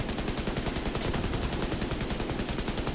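A video game minigun fires nonstop, a loud, dense rattle of shots packed into a continuous roar with no pauses, heard up close.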